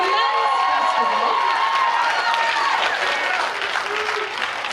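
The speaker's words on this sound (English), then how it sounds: "in case he got swallowed up by the raucous applause" Raucous applause and some cheering from the audience at a fall choir concert, a dense crowd roar held for several seconds with voices mixed in, easing slightly near the end.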